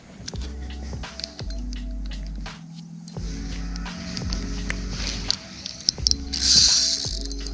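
Fishing reel drag clicking in rapid ratcheting bursts as a sunfish pulls line from a canoe, with steady mechanical clicks nearly throughout and brief gaps between runs, up close.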